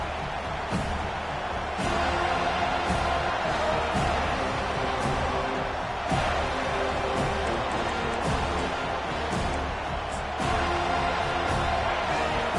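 A large college football stadium crowd at Florida State vs Alabama roars and cheers steadily in the distance, a continuous wash of noise with occasional louder swells.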